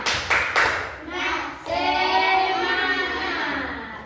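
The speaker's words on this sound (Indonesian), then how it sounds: "Tepuk semangat." Schoolchildren in a classroom clap out a rhythmic class cheer: a few sharp claps at the start, then a burst of mixed clapping and voices that carries on loudly to the end.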